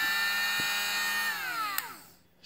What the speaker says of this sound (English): So I switched bits to the 1/16, and now I'll go back and make that hole a little bigger.